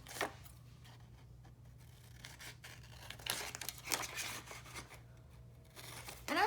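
Scissors cutting out paper for a handmade sunflower journal, faint close snips and rustling paper at low level, with a few louder crinkling bursts near the end and no talking.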